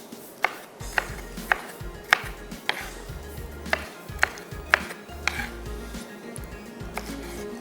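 A knife chops capsicum on a cutting board, with steady, evenly spaced sharp knocks about twice a second over a low background hum in a kitchen.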